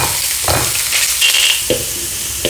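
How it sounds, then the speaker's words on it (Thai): Bacon and ham stir-frying in a pan without oil, with a steady bright sizzle and occasional scraping stirs of the utensil, close and fairly loud, with no talk. "ก็เอาเบคอนกับแฮมมาผัดนะคะ โดยไม่ต้องใส่น้ำมันนะคะ"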